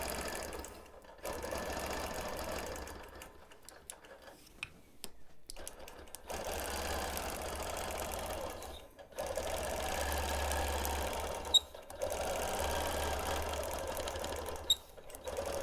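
A quilting machine stitches around the black border of a Quilt of Valor quilt, a fast steady mechanical whir in long runs broken by short pauses and a couple of sharp clicks, close and moderately loud.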